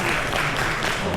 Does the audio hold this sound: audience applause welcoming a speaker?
yes